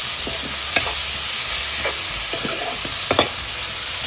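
Rice sautéing with masala paste in a pan in a Konkan home kitchen: a continuous close sizzle, broken by a few sharp scrapes of a spoon stirring the pan.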